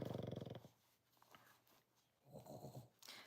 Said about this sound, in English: He's really, really snoring